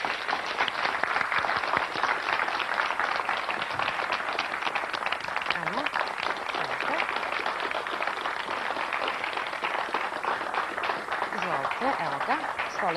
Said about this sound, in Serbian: Molim vas jedan veliki aplauz za njih